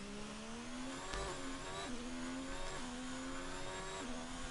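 An F3 race car in a racing game at the Azerbaijan circuit, its engine whining high and steady, climbing through the gears with several shift drops, close and constant with no voices.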